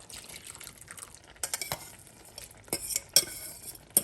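Coconut soup being poured and stirred into a pan of jerk shrimp in coconut sauce, with soft clinks of a utensil against the pan, a light sizzle and a few sharper scrapes and taps near the end.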